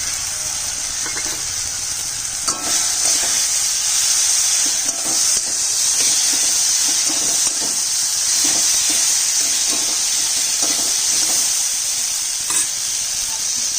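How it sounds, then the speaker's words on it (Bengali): Fried soybean chunks and cashews are stirred into a hot frying pan for a vegetarian Bengali dish, giving a steady loud sizzle with scraping stir strokes throughout. "দিয়ে দিচ্ছি সয়াবিন ভাজাটা দিয়ে দিচ্ছি কাজু কিচুড়ি ভাজাটা"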